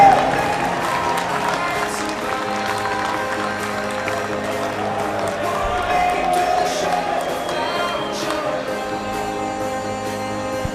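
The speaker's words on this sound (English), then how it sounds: "how about a big round of applause for the gentlemen here in the 800-yard freestyle relay" Crowd at an NCAA swimming championships natatorium applauds the winning 800-yard freestyle relay team, the Texas Longhorns; sustained clapping and cheering blend with echoing arena noise and a public-address tone throughout.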